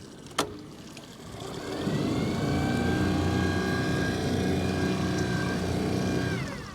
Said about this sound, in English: Everything seems to run good on the kicker motor